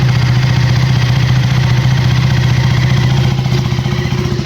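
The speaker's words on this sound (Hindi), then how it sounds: "इतनी दूर से भी एग्जॉस्ट नोट ही आ रही है।" A KTM Duke 390 motorcycle's exhaust note, a loud steady engine rumble held at an even idle throughout, close and continuous with no other sound over it.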